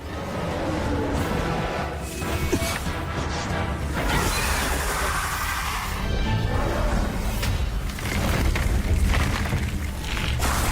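Rumbling booms and crashing blasts from an animated Donghua battle between Li Shaotang and Dafeng, a loud continuous roar with swelling impacts and whooshes sustained throughout.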